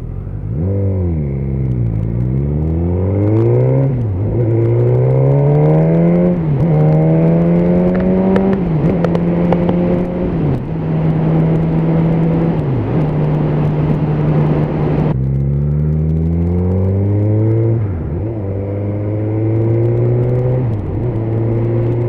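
A Suzuki GSX-S 1000 motorcycle on the road, its engine loud and close, climbing through gear after gear in rising whines with a brief drop between shifts, then easing off and pulling away again.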